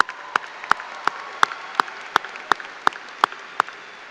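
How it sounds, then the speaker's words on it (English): At a Spring Valley High School commencement ceremony, clapping comes through as sharp, evenly spaced claps about three per second over a thin bed of softer crowd applause. "Let's give them a round of applause."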